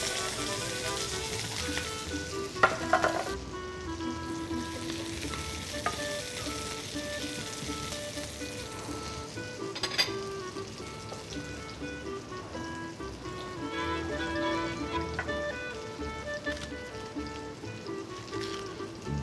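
Plenty of red onions cut into long strips sizzle steadily in a frying pan for nettle fry, with occasional utensil clinks and stirring over the constant crackle.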